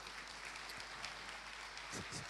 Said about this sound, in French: Allez, on va les applaudir aussi.